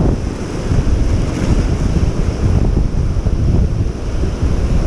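Strong wind and breaking waves on a sea shore during sea bass fishing make a loud, continuous roar with gusty wind buffeting the microphone and rolling surf beneath, with no voices.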